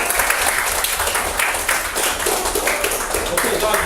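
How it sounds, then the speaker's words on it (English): Students at a school session applaud steadily and loudly, a dense wash of many hands clapping at once for the whole stretch, with a voice or two mixed faintly underneath. "Give her a round of applause."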